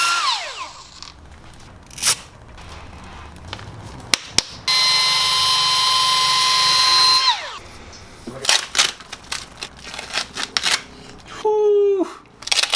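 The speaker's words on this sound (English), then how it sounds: "I have this little rotary sander, so I should just be able to level up and make a nice clean pass across it." A small rotary sander whines at a steady pitch for about three seconds while levelling a motorcycle engine case for an Indian build, set among scattered clanks and handling knocks in a garage.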